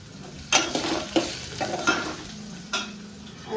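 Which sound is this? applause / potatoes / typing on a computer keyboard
potatoes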